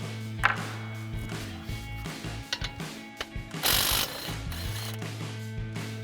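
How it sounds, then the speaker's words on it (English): Ratchet turning a 13mm socket on the brake caliper bolts of a Ford F-150, rapid clicking pawl bursts with metallic clinks and a brief loud scrape, close up, with no talking. "we need to remove the two 13mm bolts holding that on. We've got our 13mm socket. Pop that off."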